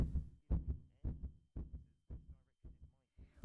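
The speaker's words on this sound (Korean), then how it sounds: "지금 이 소리는 길을 묻는 외국인을 만나 당황한 서울 사는 김모 씨의 심장박동 소리입니다" A heartbeat sound effect thumps in a steady lub-dub rhythm, about seven loud, close, low beats spaced evenly with no talk over them.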